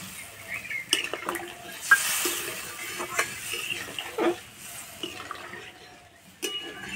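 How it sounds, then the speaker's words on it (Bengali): Water pours into a pan of spiced lentil and egg curry, giving soft splashing and sizzling bursts at close range, quiet and intermittent with small clinks of utensils. "এবার জল দিয়ে দেবো। জলটা একটু বেশি দিতে হবে।"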